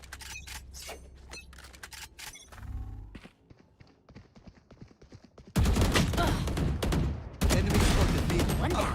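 Gunfire from a shooter video game crackles in rapid bursts of close shots, then gives way to a loud, sustained barrage of dense firing and blasts through the second half.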